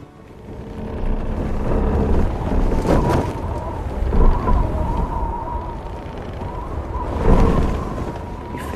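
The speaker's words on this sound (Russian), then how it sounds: "Слышишь? Это ветер." Wind at sea on board a whaling ship roars in a steady low rumble with a few stronger gusts swelling and fading, no voices.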